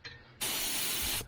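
A budget HVLP paint sprayer runs at 30 psi, a loud, steady, broad hiss of spraying air lasting about a second, following a quieter moment with low background noise.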